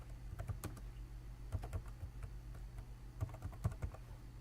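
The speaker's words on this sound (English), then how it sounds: "click on it, and you're going to type in your website name" Computer keyboard keys tapped in short irregular bursts while a website name is entered in a WordPress setup, soft and close with brief pauses between clusters of clicks, no speech.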